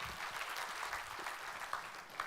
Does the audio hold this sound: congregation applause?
yes